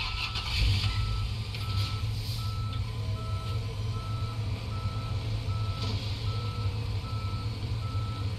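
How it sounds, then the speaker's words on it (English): A tow truck's reversing alarm beeps repeatedly at a steady rhythm in the Police Simulator video game, over a continuous low diesel engine rumble for the whole stretch. "So just wait for that tow truck to get on scene and then we will be out of here."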